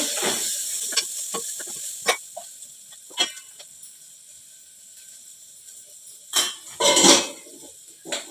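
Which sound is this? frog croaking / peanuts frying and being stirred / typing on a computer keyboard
peanuts frying and being stirred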